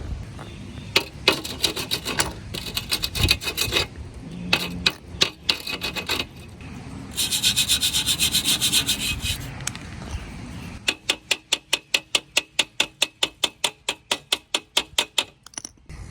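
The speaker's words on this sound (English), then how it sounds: "You want to wire brush it" Rusty metal scrubbed with a wire brush, close and dry, first in irregular scraping strokes and then in a fast, even run of sharp strokes, with no voices.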